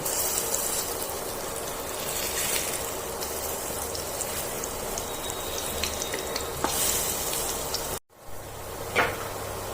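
Bottle gourd koftas sizzle and crackle steadily in hot oil as they are turned one by one, with occasional small pops and stirring clinks; the frying sound briefly cuts out near the end.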